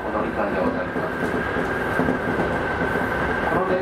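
Keisei 8800 series commuter train running on the Keisei Chiba Line toward Matsudo, a continuous loud rumble of wheels on rails with a steady tone from the cab, heard without pauses.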